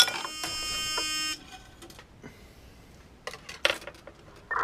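The primer-low alarm on a progressive reloading press sounds as a steady electronic buzzing tone lasting over a second, followed by faint clicks and mechanical clacks from the press.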